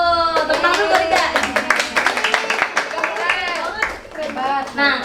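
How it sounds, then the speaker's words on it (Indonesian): A classroom bursts into a quick round of hand clapping, a burst of crisp overlapping claps mixed with voices and cheerful chatter, in a microteaching session. "Tepuk tangan dulu, Rida."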